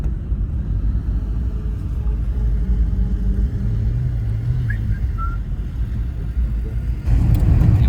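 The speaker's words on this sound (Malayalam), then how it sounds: "ഇവിടുത്തെ ഗവൺമെൻറ് ബസ് സ്റ്റോപ്പാണ്" Low rumbling road traffic at a government bus stop in Manali, Himachal Pradesh, a steady engine drone with a vehicle passing close and growing louder near the end.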